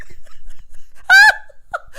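A woman gives a sharp, audible gasp on a reality TV show, one short loud intake of breath amid near silence, followed by a brief quieter vocal sound.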